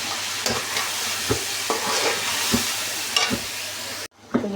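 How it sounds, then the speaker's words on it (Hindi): A spoon stirs a masala mixture in a pot for Sindhi-style aloo pulao, with repeated scraping strokes over a steady sizzle, close and fairly loud, then a brief cut to quiet and another stroke. "मिक्स कर लेंगे।"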